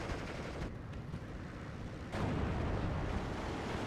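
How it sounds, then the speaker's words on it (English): Gunfire and incoming shots rumble in a WWII strategy video game, a dense continuous barrage of battle noise that swells louder partway through, with no voices. "Shots coming in."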